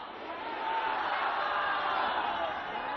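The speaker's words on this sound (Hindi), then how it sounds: "बाबा ने जैसे ही भोजपुरी में लोगों का अभिवादन किया, पूरा पंडाल तालियों से गूंज उठा" A crowd in a pandal at a religious gathering in Bihar roars with clapping and cheering, a loud, dense, sustained wash of noise.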